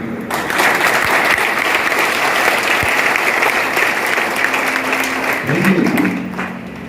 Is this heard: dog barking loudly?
no